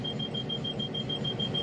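A train cab attention alarm beeps in a steady, rapid high-pitched pattern, evenly spaced pulses over a low rumble of the cab, fairly faint and with no voices.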